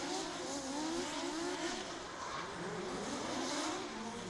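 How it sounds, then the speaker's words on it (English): A drift car on its qualifying run at a drifting championship, heard from a distance as a sustained, fairly faint engine roar with rising and falling revs, steady throughout. "Sits on a 0 after his first run in qualifying. in a borrowed car from Philly Suffolk"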